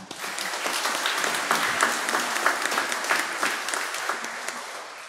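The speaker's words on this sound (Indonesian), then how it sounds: "Kita memberikan aplaus untuk mereka" A church congregation at a Catholic jubilee year 2025 opening Mass in Matraman parish gives sustained, dense applause to the jubilee team, steady and enthusiastic throughout.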